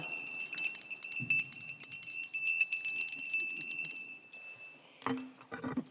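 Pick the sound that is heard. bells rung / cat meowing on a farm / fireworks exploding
bells rung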